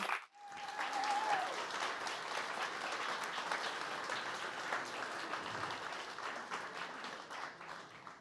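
An audience bursts into sustained applause to welcome the speakers: a dense, even wash of clapping from a full room that holds steady for several seconds and then begins to taper.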